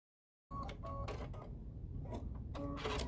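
A sewing machine stitches fabric for holiday gift-box placemats, making a close, quiet, continuous mechanical whirr with rhythmic ticking and clicks and no talking.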